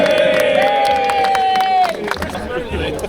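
A crowd at an outdoor political rally cheers and shouts loudly, with a long sustained yell rising over the noise before it breaks into scattered claps and voices.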